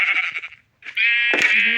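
A video-game sheep bleats twice in close succession, each call wavering and clear, with a brief silence between them and a click near the end.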